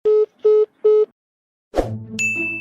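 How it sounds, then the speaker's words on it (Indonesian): Three identical steady telephone dialing tones sound in even succession, followed by a pause and then a burst of tonal electronic sounds and a high held tone, loud and close with no talk. "Oh iya, telepon Misua."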